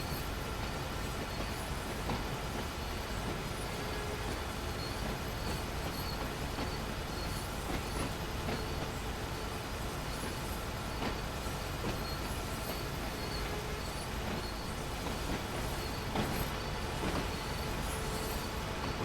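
Steady, continuous rail noise of a train in Train Sim World 2, rolling wheels and car rumble with faint clanks and squeal around the uncoupling of vehicles on the Sherman Hill route, loud and unbroken with no voices.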